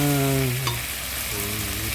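Masala with potato, pointed gourd and paneer is stir-fried in a pan, giving a close, constant sizzle and crackle of hot oil with a few stirring scrapes, heard alone without talk.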